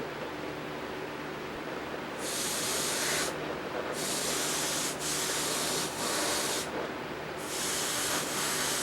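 Spray gun painting red over car trim during crash repair: a steady close hiss with several brighter bursts of spraying, each lasting about a second, over a constant background rumble.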